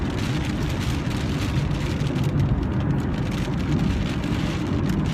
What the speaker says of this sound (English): now I'm just too distracted by the rain